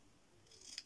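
Paper being snipped with scissors to cut out a single word, a brief close crisp cut rising at the end, quiet and alone.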